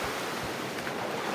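Sea waves at Bayug Island give a steady, dense wash of surf mixed with wind rumble, loud and continuous over a brief stretch with no voices.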